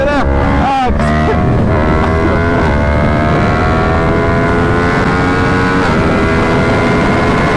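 Motorcycle accelerating hard nearby, a loud engine whose rising harmonic tones climb steadily through the gears against wind buffeting.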